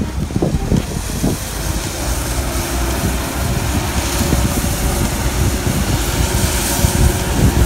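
A tractor clears iron-and-wood beach loungers on a beach in Antalya, Turkey, its engine droning steadily and loud throughout, with a few knocks and clatters near the start.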